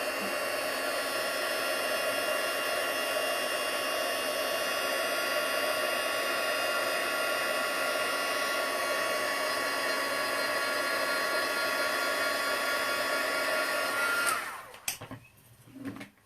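A heat tool blows a continuous, steady whooshing hiss while warming tissue on a candle, holding level for about fourteen seconds before cutting off, followed by a few faint handling knocks.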